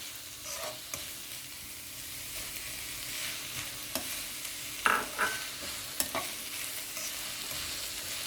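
Green peas and mixed vegetables stir-fry for veg fried rice, a soft steady sizzle broken by scraping stirs and a few sharp clinks of the spatula against the pan.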